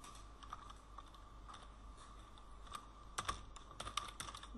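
A computer keyboard is typed on in quick, faint, irregular clicks, with a few sharper keystrokes clustered near the end over a low steady background hum.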